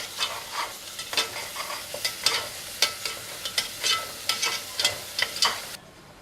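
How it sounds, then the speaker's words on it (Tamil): Ginger garlic paste being stirred in hot oil in a pan for tomato rice, a fry sizzle broken by repeated rhythmic scrapes of a spoon, close and fairly loud, with no talking. "சேர்த்துட்டு நல்லா மிக்ஸ் பண்ணிடலாம்."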